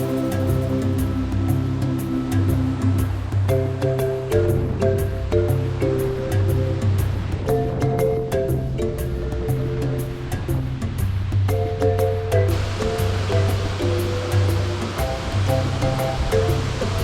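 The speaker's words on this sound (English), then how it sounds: "But guys, this is not a swimmable waterfall." Rushing water at Wli Waterfalls in Ghana, West Africa's highest falls, pours steadily over rocks as a continuous loud roar, with a faint tonal hum running underneath throughout.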